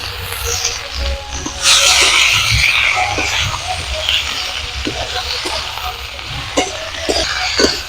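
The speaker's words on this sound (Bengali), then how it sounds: "বেগুনটাকে বেগুন আলুটাকে ভালো করে একটু ভেজে নেব" Eggplant and potato pieces fry in oil in a wok, a loud close sizzle that swells sharply, with scraping stirs and clinks scattered through, and no talk.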